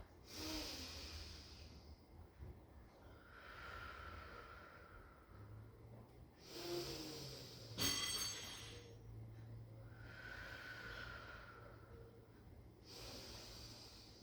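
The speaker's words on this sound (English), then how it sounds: "Take some nice deep breaths in and out." Slow deep breathing in and out during a Pilates standing hold, with long airy inhales and exhales repeating at a calm, even pace, close and soft.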